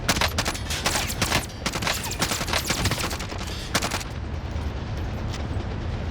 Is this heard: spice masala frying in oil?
no